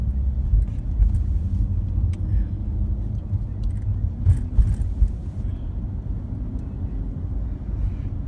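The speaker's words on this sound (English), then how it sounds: "We're driving through Central Park." A car driving through Central Park in New York, a continuous low road rumble and engine hum with occasional rattles and light bumps, close and steady throughout.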